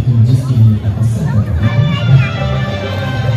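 Dense crowd hubbub at the Sai Mahotsav festival in Chaibasa, a steady, loud babble of many voices with no single clear speaker, close and continuous throughout.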